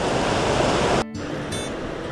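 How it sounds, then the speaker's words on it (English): Flowing water rushes beside a hiking trail in the White Mountains of New Hampshire, a loud steady broadband wash that cuts off abruptly partway through and continues more quietly. "I just love hiking next to flowing water."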